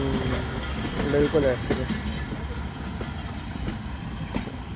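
Kohat Express passenger train running on the rails at Jand Junction, a rhythmic clickety-clack of wheels over rail joints with a rumbling carriage drone, while someone speaks briefly over it.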